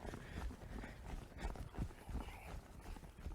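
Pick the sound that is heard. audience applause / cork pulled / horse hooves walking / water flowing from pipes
horse hooves walking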